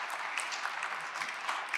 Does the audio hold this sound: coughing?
no